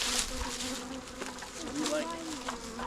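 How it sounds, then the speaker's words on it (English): A dense, continuous hum of many honeybees buzzing close by in an open hive with the lid off, with a few individual insects droning past over the steady swarm. "Lots of bees. Yes. Lots and lots of bees."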